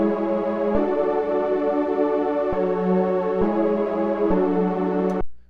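Pretty Pad synth preset playing sustained Rhodes-style chords, a warm layered tone with soft reverb, changing chord roughly every second to second and a half, steady and alone with no talking.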